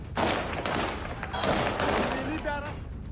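Rapid bursts of gunfire crackle continuously, loud and dense, with shouting voices mixed in.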